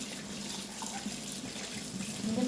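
Tap water runs steadily into a kitchen sink during dishwashing, a close, continuous broadband splashing rush with no speech.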